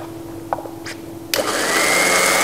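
A blender starts up and runs steadily, whirring ginger garlic paste with a little warm water, turmeric and salt; a few light kitchen clinks come first, then the motor kicks in loud and continuous to the end.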